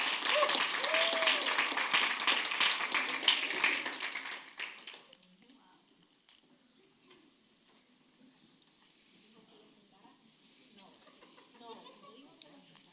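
A church congregation claps and cheers loudly for about five seconds, then the applause dies away to scattered claps and quiet room murmur, with voices speaking over it.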